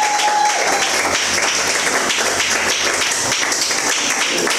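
Church congregation applauding during a French-language worship service, dense sustained clapping from many hands throughout, loud and close.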